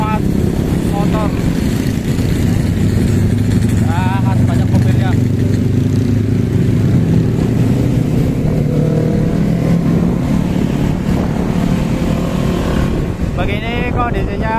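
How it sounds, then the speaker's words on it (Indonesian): Heavy, constant traffic of many motorcycles and cars at the Honda motorcycle factory in the MM2100 industrial area at Cibitung, a dense steady engine roar throughout, with occasional horns and a voice talking over it. "itu suaranya agak terganggu karena banyak sekali motor dan mobil itu lagi muat motor"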